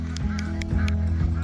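Ducks on a small homestead barnyard call in loud, repeated honking quacks, several short bursts over a steady low rumble.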